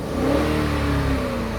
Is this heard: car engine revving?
yes